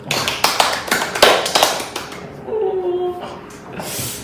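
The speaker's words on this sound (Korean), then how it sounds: "박수 한번 치우셔야 돼요" Sharp hand claps ring out in a quick, uneven series close to the microphone, followed by a short stretch where people chatter and laugh.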